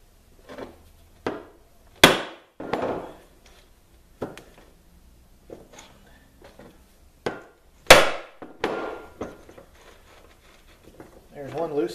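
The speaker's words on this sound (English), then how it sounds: "I've got an impact driver tool, kind of necessary on stuff like this, because you're never going to get these screws out without it." Sharp hammer blows on an impact driver to loosen Garelli moped points plate screws, a scattered series of loud metallic whacks with quieter knocks between, and someone talking in between.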